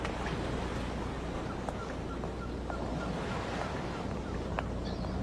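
Ocean waves at the sea in the late afternoon, a constant wash of surf with wind buffeting, steady and moderately faint throughout, no speech.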